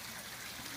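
Steady rushing and trickling of water draining out of an aquaponic flood-and-drain grow bed, a continuous close wash of splashing with no pauses.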